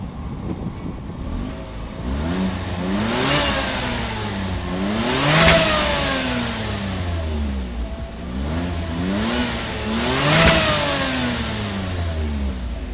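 A Daihatsu Ayla car engine revs up repeatedly, pitch climbing and falling in waves with two louder peaks, steady and close with no talking.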